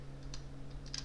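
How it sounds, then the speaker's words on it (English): Typing on a computer keyboard: a few soft, quick keystroke clicks over a low, steady hum, faint and brief, with no speech. "you're going to type in"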